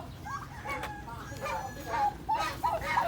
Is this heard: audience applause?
no